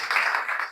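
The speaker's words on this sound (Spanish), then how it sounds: "empezamos recibiendo con un aplauso a la Madre Notre Dame" An audience in a hall applauds to welcome Madre Notre Dame at a talk. The applause is a brief, dense wash of clapping, moderately loud and close.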